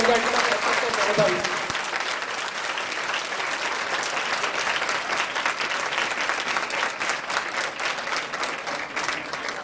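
Audience applause at a school annual day event after a motivational speech, a dense, steady burst of many hands clapping that carries loudly and evenly throughout.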